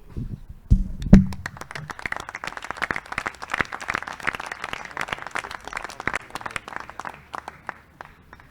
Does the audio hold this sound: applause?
yes